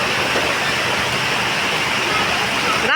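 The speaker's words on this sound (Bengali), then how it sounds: "বৃষ্টি পর নেমে গেল, দেখেন কি শব্দ টিনের।" Heavy rain drums on a tin roof, a loud, unbroken roaring hiss close overhead that fills the whole span, ending in a short sharp burst.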